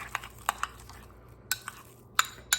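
Deviled egg filling seasoned with salt and pepper and mixed with a spoon in a bowl, giving irregular bright clinks and taps against the dish, close and fairly quiet.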